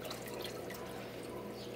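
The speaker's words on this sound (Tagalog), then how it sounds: "pinapantay ko dun sa kabilang tank yung tubig na ibabalik ko" Water is poured back into an aquarium tank during a water change, a faint continuous trickling splash with light drips, close and steady.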